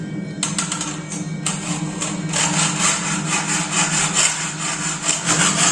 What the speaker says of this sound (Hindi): भाई से मैंने मंगवाई है आरी, तो हम इससे काटेंगे। चल काट।